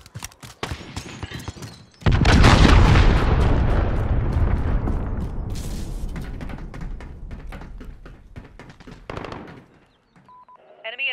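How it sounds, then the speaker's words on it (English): Cruise missile strike in Call of Duty: Modern Warfare: a sudden heavy explosion after a couple of seconds of scattered noise, followed by a long, loud rumbling roar that slowly fades out. "Enemy cruise missile incoming!"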